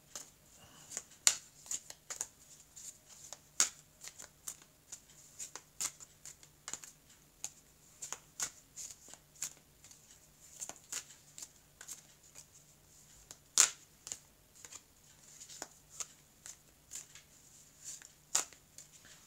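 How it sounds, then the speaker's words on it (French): A deck of tarot cards is shuffled by hand in soft, irregular flicks and taps, close and quiet, with scattered sharper clicks spread across a long stretch. "on va donc mélanger les cartes"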